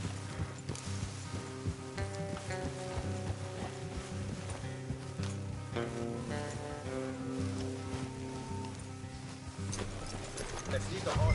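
Horse hooves clip-clop steadily on a path in Red Dead Redemption 2, a rhythmic clatter under game music and characters talking.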